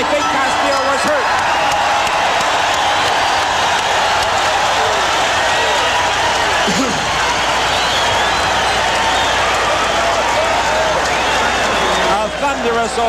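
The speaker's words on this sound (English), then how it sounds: "Thunderous ovation from this crowd" A boxing arena crowd gives a loud, sustained ovation of applause and cheering, dense and continuous throughout, with a commentator talking over it.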